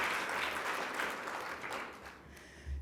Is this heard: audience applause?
yes